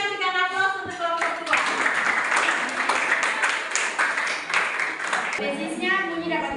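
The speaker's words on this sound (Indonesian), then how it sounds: "kita berikan aplaus untuk kelompok" A class of students gives a group a round of applause during a school lesson: about four seconds of steady, dense clapping, with a voice talking just before and after it.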